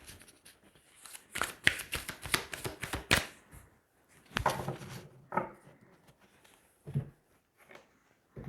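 Tarot cards being shuffled and drawn by hand: clusters of quick papery riffling bursts, then scattered softer slaps and flicks as individual cards are laid down, close and intimate with no voices.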